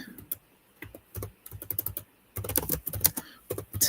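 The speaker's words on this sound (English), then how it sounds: "Let me type this." Fingers tap on a computer keyboard in quick, uneven bursts of clicks, close and crisp, with a short pause between runs of keystrokes and no voices.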